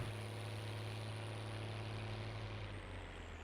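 A tractor engine idles in Farming Simulator 19, giving a quiet, steady low rumble with a constant droning hum and no change in pace.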